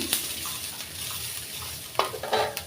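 Dried chillies and dried fish (shutki) fry in a pan for a mashed shutki bhorta: a soft, steady sizzle with a few brief scraping stirs near the end.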